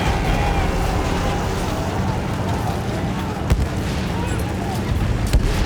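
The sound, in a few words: artillery fire in a video game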